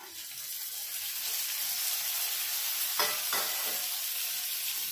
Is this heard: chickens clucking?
no